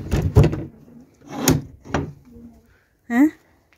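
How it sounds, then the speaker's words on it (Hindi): Someone speaks in Hindi in a quiet evening setting, then a door is pushed shut near the end, a short squeaky scrape ending in a firm close. "इसका मैं बंद कर देती हूँ दरवाज़ा"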